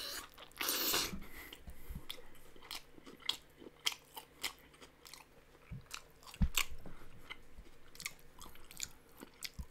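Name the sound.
chewing pizza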